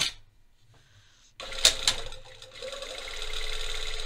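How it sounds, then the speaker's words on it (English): A sewing machine tacks a seam allowance down to a zipper pocket on men's track pants, running in a steady whirring stretch after a quiet start, with a few sharp clicks near the beginning. "we are tacking the seam allowance um, down to the pocket as we go."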